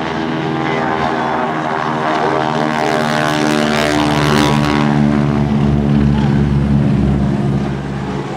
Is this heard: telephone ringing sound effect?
no